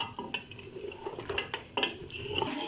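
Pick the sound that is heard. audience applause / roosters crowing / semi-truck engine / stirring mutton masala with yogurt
stirring mutton masala with yogurt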